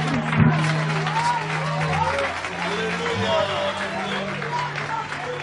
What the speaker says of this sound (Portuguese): deixa eu ver quem pode aplaudir e glorificar o nome de Jesus.